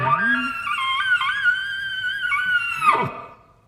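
A voice imitates an elk bugle: a low rising grunt climbs into a long high-pitched squeal, then breaks down into guttural grunts before fading.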